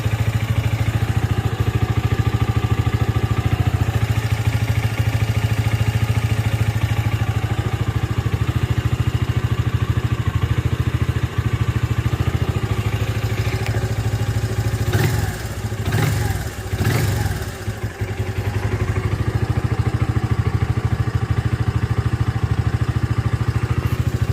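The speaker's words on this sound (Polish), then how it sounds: "wolne obroty to powinno być tak 1600 plus minus 100, tak podaje serwisówka" A Kymco Hipster 125 scooter engine idles steadily after carburetor cleaning and adjustment, a close, constant low mechanical drone with a brief dip and flutter midway, no talk.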